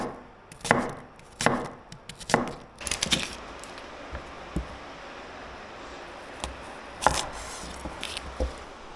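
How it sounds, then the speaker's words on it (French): Knife chopping onions for onion confit: a few sharp, close chops near the start, then sparser, quieter cuts with pauses between them. "je vais couper tous les oignons comme ça"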